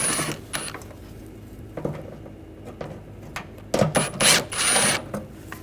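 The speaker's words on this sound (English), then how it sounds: "Using a 8mm socket, take these two screws out." An 8mm socket ratchet backs screws out on a 2009-2013 BMW 328i, with bursts of quick clicking, scraping and knocking near at hand amid quiet pauses and no talking.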